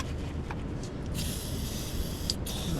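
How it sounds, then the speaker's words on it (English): A steady hiss of aerosol spray on the engine linkages of a truck abandoned for over a decade, with a few short pauses between bursts. "Spray up all the linkages."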